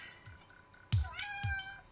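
A cat meows close by in a few short, rising cries over a busy background of video game music and effects from Oddworld New N Tasty.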